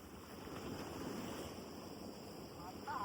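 Sea water washing in waves at the Khar Danda shore, a continuous rushing surf with wind buffeting the microphone, at moderate distance, with a slight swell near the end.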